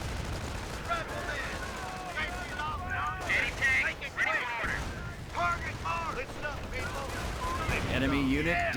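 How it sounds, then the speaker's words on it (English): Battle in the game Company of Heroes: near-continuous gunfire and explosions fill the clip, with bursts and rumbling impacts mixed under overlapping combat voices and chatter. "we're taking some pretty brutal fire"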